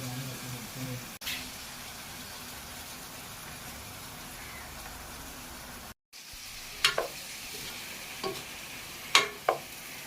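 Onion added to a pan with green chillies and salt for a Mutur-style prawn curry sizzles in a steady broadband hiss, briefly cutting out, then returning with a few sharp clicks and spatters.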